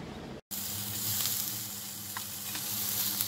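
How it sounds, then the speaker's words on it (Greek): Homemade sausages sizzle and crackle in a frying pan, a steady close hiss with small pops, briefly cut off at the start and then continuing on its own. "Όπως βλέπετε τα λουκάνικά μου τηγανίζονται"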